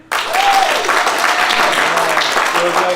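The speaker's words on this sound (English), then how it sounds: "Clap for 3." An improv comedy show audience claps to vote during a live show, a loud wash of applause rising abruptly and holding steady, with faint voices mixed in.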